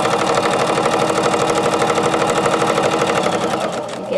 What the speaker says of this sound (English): I'm going to sew right over my seam. I'm going to continue sewing.